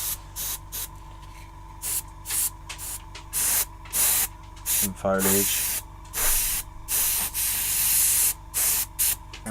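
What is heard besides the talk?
aerosol spray can spraying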